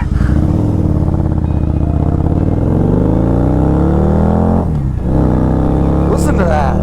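A car engine revs hard and loud at close range in warm weather, a continuous throaty roar with cracking rasp as the throttle opens, dipping briefly before climbing again.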